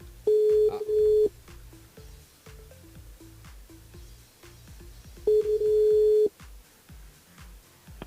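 Two bursts of steady telephone keypad tones, each about a second long, sound as a radio host dials a listener, separated by several seconds of low thumping and clicking in between.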